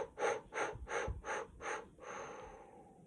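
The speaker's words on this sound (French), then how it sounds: "d'inspirer profondément et d'expirer par petits à-coups" Five quick forceful breaths pushed out in short rhythmic bursts, close and distinct, followed by a longer trailing breath as part of a breathing exercise.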